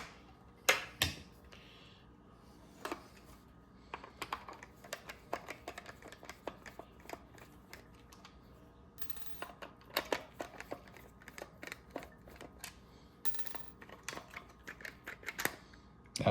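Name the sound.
removing Phillips screws from refrigerator ice maker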